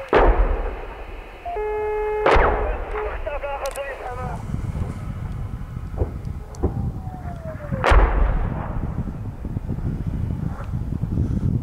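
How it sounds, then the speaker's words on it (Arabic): A multiple rocket launcher barrage shells the city of Al-Lataminah in rural northern Hama, with heavy distant booms, two sharp blasts and a whistling projectile over constant wind noise, while people speak. "قصف براجمات الصواريخ على مدينة اللطانة بريف حماة الشمالي"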